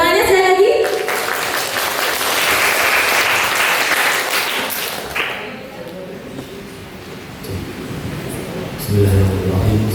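A seated audience at a school industry-study event applauds an invited speaker in a loud, steady burst of clapping that dies away after about five seconds, followed by quieter room sound.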